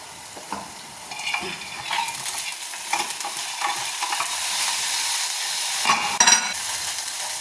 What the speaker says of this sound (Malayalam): മുതിര ഇട്ടെടുത്ത് ഇനി നല്ലവണ്ണം ഒന്ന് ഇളക്കി യോജിപ്പിക്കുക